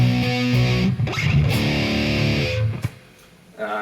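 A metal riff rings out on distorted electric guitar, a sustained chugging chord pattern that fades near the end before a new note starts.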